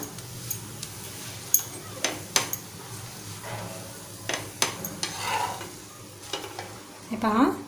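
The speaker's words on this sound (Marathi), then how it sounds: "आता सर्व बाजूने आपण थेपला छान शेकून घेऊया" Methi thepla flatbread roasts on a hot pan, with a low sizzle under a series of sharp scraping and tapping strokes as it is pressed and turned, close by and fairly quiet, ending in a brief squeaky scrape.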